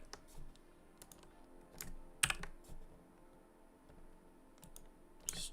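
Typing on a computer keyboard, scattered quiet key clicks in irregular bursts with one sharper louder tap near the middle, close and soft against a faint background.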